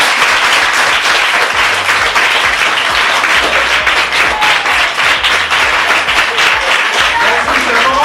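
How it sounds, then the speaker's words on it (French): Schoolchildren applaud loudly at a prize-giving for top pupils, a dense, continuous wash of many hands clapping at close range that holds steady throughout, with faint voices mixed in underneath. "Et on applaudit fort."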